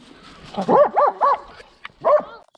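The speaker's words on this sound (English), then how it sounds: "We'll play some footage of him barking at the echidna now." Dog on a bushland trail barking at an echidna: a quick run of three yapping barks, a pause, then one more bark, close and loud.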